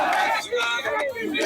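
Activists of the Jamaat-e-Islami chant slogans in unison at a road-block protest on the Srinagar Highway in Pakistan, loud rhythmic crowd voices with short pauses between phrases.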